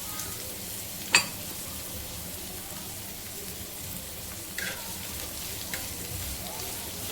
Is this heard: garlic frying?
yes